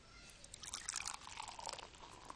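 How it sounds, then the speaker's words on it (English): Cartoonish soda-pouring effect from the Second Life virtual world, a brief bubbly trickle of liquid with fizzy splashes, fairly faint and heard alone without talk. "That's supposed to be soda pouring."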